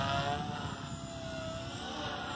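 Blade 180 CFX RC helicopter with stretched Lynx blades and boom running at its lowest throttle: a steady, moderate whine and rotor hum that holds evenly throughout, fairly close.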